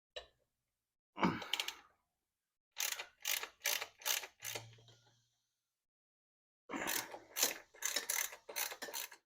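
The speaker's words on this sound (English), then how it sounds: "These two 12 mil bolts. Move them with a wrench or a socket here." A socket wrench ratchets on the 12 mm bolts of a Kawasaki Vulcan 750 motorcycle, heard as short clicking bursts in separate groups with pauses between them. The clicks are close and quiet, and no voice is heard.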